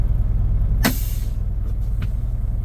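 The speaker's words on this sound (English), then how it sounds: "The brakes are set." A truck's air brakes are set with one loud, sharp hiss burst standing out over a steady low engine idle, followed by a fainter short hiss, with no talking.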